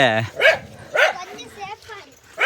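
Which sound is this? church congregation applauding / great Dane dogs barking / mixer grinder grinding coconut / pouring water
great Dane dogs barking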